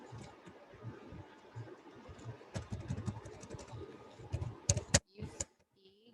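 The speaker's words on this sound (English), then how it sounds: "See, when you start typing" Computer keyboard keys clatter during Python coding, scattered clicks that grow into a denser burst of taps and then stop, close and fairly faint, with a voice heard in the clip.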